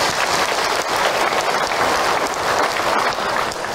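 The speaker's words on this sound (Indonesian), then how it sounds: "Tepuk tangan untuk Ahilman" A mosque audience applauds after a religious talk about Isra Miraj, a dense, steady wash of many hands clapping at even loudness throughout, with no voices on top.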